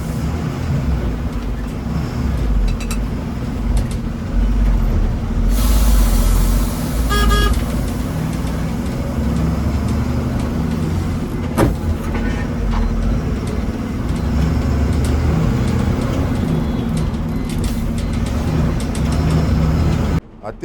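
A loaded 16-wheel Ashok Leyland truck carrying tiles and granite labours along an uneven road with a constant low engine drone, road noise and a brief horn toot, with faint voices in the cab.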